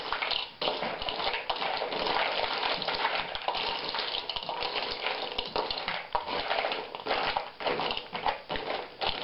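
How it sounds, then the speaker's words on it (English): Pretzels stir-fried in a honey mustard sauce with cayenne pepper, giving a steady, loud, close sizzle with constant scraping and crackling as they are tossed in the pan, continuous throughout with no talking. "I stir fry like a little bit because it gives them a chance to soak up the sauce"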